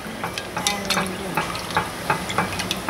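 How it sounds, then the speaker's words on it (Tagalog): A gelatin and water mixture being stirred in a pot for a Nutella panna cotta, with soft scraping strokes and faint liquid swirls repeating at an uneven pace, close by and fairly quiet, no one talking. "So, ito naman yung gelatin at water mixture natin. So, haluin lang natin."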